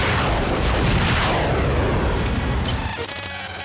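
Heavy weapons blast away in a Space: 1999 audio drama, a dense continuous roar of explosive fire that fills the scene, then gives way to electronic pulsing tones.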